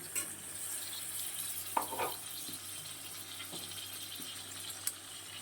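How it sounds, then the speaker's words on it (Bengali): Water poured into a pan of cooking food, a soft wet sizzle with faint stirring clinks, quiet and steady with no talking. "দেখো আরেকটু জল দিয়ে দেবো।"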